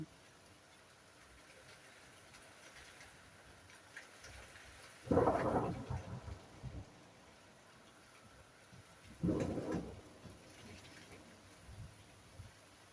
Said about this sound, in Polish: To tylko burza. No, za oknem jest.